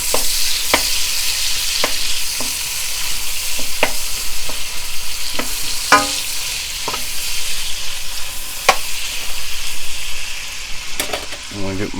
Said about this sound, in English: first we're going to throw in the green peppers and onions